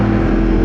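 A Yamaha motorcycle engine fitted with an Akrapovič exhaust drones loud and steady at close range, a brief continuous rumble.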